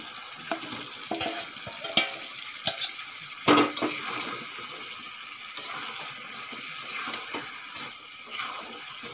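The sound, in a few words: marinated chicken added to frying spice masala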